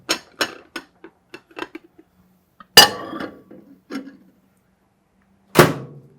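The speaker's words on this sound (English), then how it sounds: "So then go ahead and put the plate right back on top" A plate is set back on top of a bowl of sticky rice: a string of light close taps and clinks, then two sharper ringing clinks spaced apart, with no talking.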